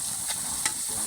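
Binakol ingredients, including ginger, being sautéed in a pan: a steady broad sizzle with a couple of brief stirring scrapes, close and alone without talk.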